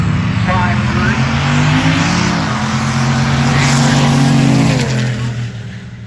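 Drag race cars launch and accelerate hard, one a turbocharged 5.3 sleeper against a Grand Prix, their engines roaring loud and sustained with rising harmonics throughout while a commentator talks over them.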